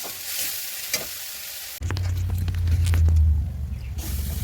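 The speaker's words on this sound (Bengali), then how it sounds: "মশলাটা ভালো করে ভেজে নেব।" Spice masala sizzling and frying in a pan, a steady broadband hiss that starts abruptly after a quieter stretch and carries on with occasional stirring scrapes, close up with no talking.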